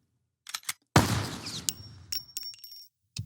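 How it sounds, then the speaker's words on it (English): Bullet shell casings dropped for sound-effect recording clink and skitter after a sharp loud burst, with small metallic chinks scattered across the clip and short pauses between them. "And then we have the bullet shell casings"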